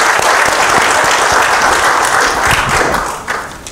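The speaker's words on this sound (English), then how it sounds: "A big round of applause to everybody" A large audience at a public service and business event gives a big, loud round of applause, thick sustained clapping close up with a few sharper individual claps standing out, continuing the whole time.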